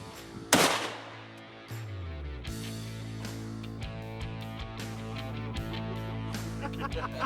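A single sharp, loud rifle shot cracks out at a hog during a hunt, followed by a steady musical backdrop with a few faint clicks.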